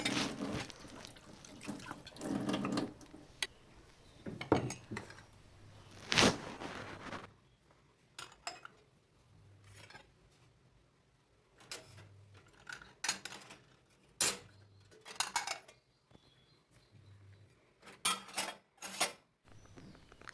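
Dishes, pots and utensils are washed with water at a home kitchen sink: scattered clinks and scrapes of metal and crockery, splashing and drips, fairly close and moderate in level with no talking.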